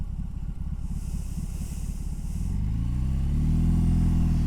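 BMW R18 Transcontinental motorcycle riding slowly and turning: a lumpy, pulsing low engine beat that rises into a steadier, louder drone as the bike pulls away, with wind hiss above it, close and without talk.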